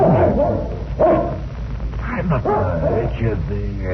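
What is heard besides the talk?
dog barking, sound effect in old-time radio drama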